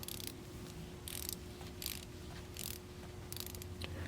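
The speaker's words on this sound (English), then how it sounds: "listen together to the sound of the ratchet mechanism" A Felo bit ratchet mechanism clicking in several quick bursts of fine ratcheting, faint and close, separated by short pauses over a low steady hum.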